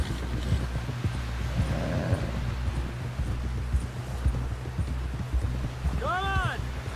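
Rapid hooves clatter steadily through the whole stretch, a horse galloping close by in the video game Red Dead Redemption 2, with low rumble beneath and a short whinny-like call near the end.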